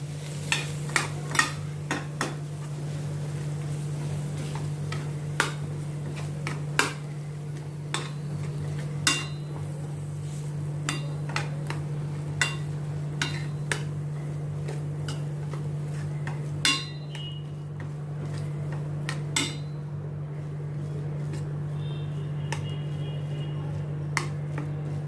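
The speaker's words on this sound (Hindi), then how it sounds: "इन सभी को अच्छी तरह से मैं अभी मिक्स करती हूँ।" A spoon stirs aloo veggie filling ingredients in a bowl, giving scattered sharp clinks and scrapes against the bowl over a constant low hum, with no talking.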